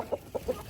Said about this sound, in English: So these are the chickens that are in the castle coop.